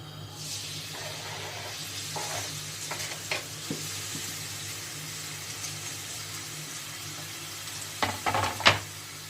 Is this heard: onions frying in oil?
yes